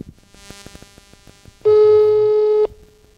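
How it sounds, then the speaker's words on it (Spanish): A telephone call being placed: faint clicking pulses come first, then a loud, steady call tone holds for about a second before cutting off abruptly. "te estamos llamando en estos momentos"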